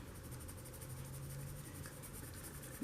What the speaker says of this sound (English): Get your ruler to help you control the pencil strokes.